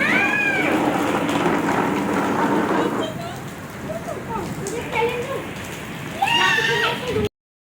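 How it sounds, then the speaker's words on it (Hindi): Heavy rain pours down steadily, with a cat meowing at the start and again near the end while voices talk faintly underneath. "हो रही है बहुत ज्यादा तेज बारिश हो रही है इस वक्त"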